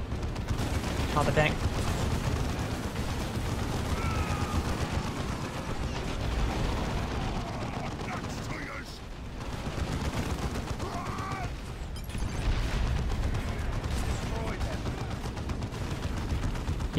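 Gunfire in the Dawn of War II video game aimed at a platform, a steady rattle of shots and booms beneath co-op players talking throughout.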